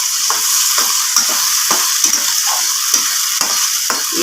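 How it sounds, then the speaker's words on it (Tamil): A ground coconut, chickpea and fennel paste frying in a pan, a loud, continuous hiss and sizzle with soft stirring scrapes and occasional small clicks throughout. "அந்த பேஸ்ட்டை இதில் போட்டுக்கலாம்"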